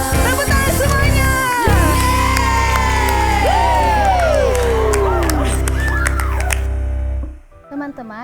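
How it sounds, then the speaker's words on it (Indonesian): At a children's church service, kids cheer, whoop and shout loudly for several seconds, with some clapping under the crowd noise before it cuts off. "Tepuk tangan semuanya."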